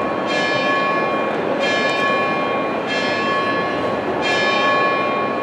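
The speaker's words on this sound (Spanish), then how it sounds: "Y esas campanas significan que el tiempo se acaba." Church bells ring loudly in four evenly spaced strikes, each leaving a long, bright humming resonance that carries over the next.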